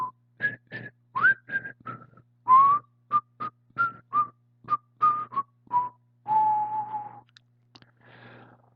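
A person whistles a lively melody alone, short clear notes in a bouncing rhythm ending on a long held tone.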